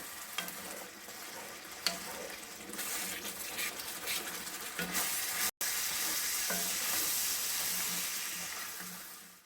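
Tater tot casserole with added water sizzles and bubbles in a cast iron skillet, a steady close frying hiss with a brief cut in the middle.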